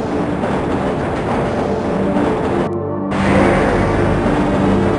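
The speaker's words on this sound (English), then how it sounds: "This train is inbound from Level 3 dormitories to Sector C test labs and control facilities" The Black Mesa tram in Half-Life rumbles loudly along its track, a continuous rolling roar with a brief momentary drop before the running noise swells again, no voices.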